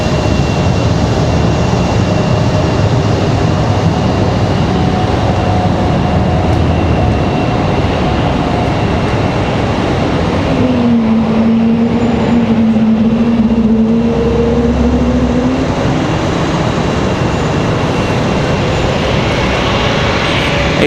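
A JetBlue Airbus A220 jet at Raleigh-Durham International Airport gives a steady, loud engine roar, with a rising whine swelling midway through before settling back into the continuous rumble.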